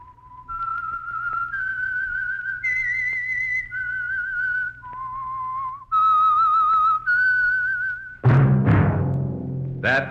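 A lone whistler carries a slow, clear melody of sustained notes, the theme of the 1940s radio show The Whistler, then a burst of voice breaks in at the end.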